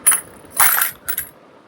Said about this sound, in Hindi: 1 के सिक्के हम यहाँ पे डाल देते हैं